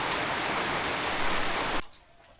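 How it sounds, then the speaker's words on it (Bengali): A steady roar of heavy rain falls on a village morning, then cuts off abruptly near the end, leaving quiet. "ভালোই বৃষ্টি শুরু হইলো"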